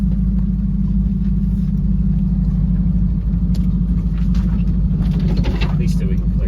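A truck climbs rough, uneven terrain on a private hillside property, its engine giving a steady, heavy low rumble that stays close and loud throughout with little change in pace.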